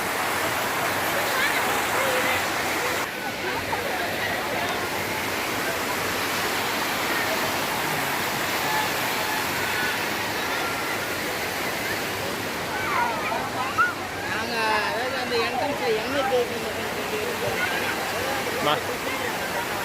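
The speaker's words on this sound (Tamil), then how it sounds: "தண்ணி பாருங்க எவ்வளோ ஃபோர்ஸாக போயிட்டுருக்கு" Water rushes forcefully at Hogenakkal waterfall, a loud, steady roar of churning flow filling the whole stretch, with a voice briefly talking under the torrent toward the end.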